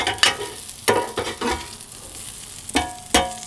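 Yardlong beans fry in a pan with a steady low sizzle, broken by several sharp scraping stirs in an irregular rhythm, close and fairly loud, with no talking.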